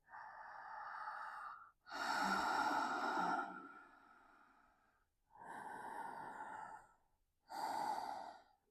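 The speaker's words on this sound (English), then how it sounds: "Focus on your ujjayi breathing." Slow, audible ujjayi breaths during a yoga stretch, four drawn-out breath cycles with ocean-like throat friction, close and alone, with short quiet pauses between them.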